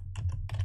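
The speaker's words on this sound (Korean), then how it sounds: "단톡방에다가 타이핑을 할게요" Rapid typing on a computer keyboard, a few quick close key clicks over a steady low hum.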